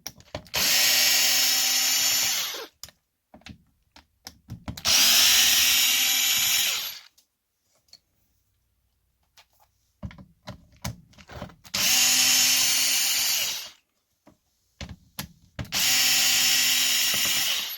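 A power driver whirs in four loud bursts of about two seconds each, with pauses and small handling clicks between them, as it backs screws out of the center diff on a Traxxas Maxx RC truck.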